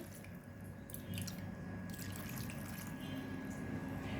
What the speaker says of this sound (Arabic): هنزل بقى عليهم باللبن والنشا